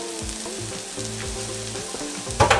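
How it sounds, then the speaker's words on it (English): Rice toasting in oil in a pan for garden-style red rice, a steady close sizzle with faint tonal hum underneath, ending in a louder burst of crackling and stirring. "I am going to go ahead and add in my rice right into the pan, because we're going to toast this up"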